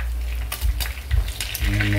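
Kamigs fish frying in a pan of hot oil for ginataang, a steady close sizzle with bursts of crackling and spatter, no voices.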